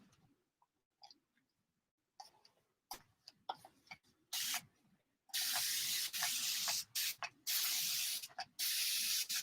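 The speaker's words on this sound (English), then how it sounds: "This is my Hobby Lobby sprayer, and it's great." Hobby Lobby hand sprayer misting water onto Fabriano watercolor paper, starting as a few faint pumps and then becoming long, loud hissing bursts, heard up close.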